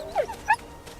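Wolves in the wild give a brief whimper and a short yip, two quick close cries over about a second.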